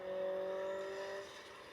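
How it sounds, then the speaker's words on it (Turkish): A car engine in the video game Car Parking Multiplayer 2, a smooth steady hum at idle or low revs, holding a constant pitch before easing off slightly. "Arabanın sesi çok kaliteli olmuş bu arada."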